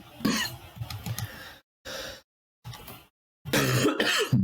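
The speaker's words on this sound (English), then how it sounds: "I apologize for the coughing in the video." A person coughs and clears their throat in several short bursts broken by silent gaps, close to the microphone, with harsh breathy coughs at the start and end.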